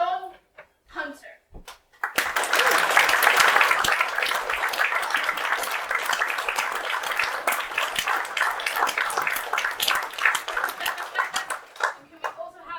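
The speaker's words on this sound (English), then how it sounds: "And can we also have a round of applause for Kenny" An audience at a Nairn Fest 2022 theatre performance applauds the actors. A voice speaks briefly, then a loud, dense burst of clapping swells and holds steady for about ten seconds before fading.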